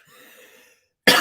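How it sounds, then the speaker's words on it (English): A single loud, sharp cough bursts out close to the microphone after a quiet stretch of faint background sound, clearly isolated on a livestream. "Ooh, that was rude to cough on live like that"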